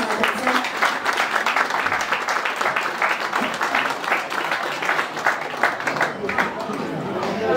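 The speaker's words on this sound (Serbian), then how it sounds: "Molim vas još jedan aplauz za naše mladence." Wedding guests applauding the newlyweds at a restaurant celebration, sustained crowd clapping with voices mixed in, steady throughout.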